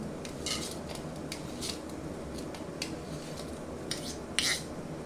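Sharp, irregular chopping and snipping sounds cut through a quiet room, soft and close, with a low hum underneath.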